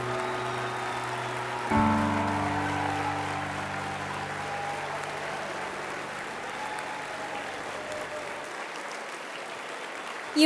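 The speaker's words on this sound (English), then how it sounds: "Let's give them a round of applause." An indoor dinner session audience at a Michigan state leadership conference bursts into sustained applause for a newly elected state officer team. The clapping starts suddenly after a steady held tone and continues evenly to the end.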